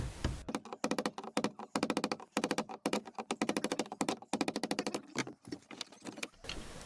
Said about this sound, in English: I'm gonna tap on it with the hammer to undo the ring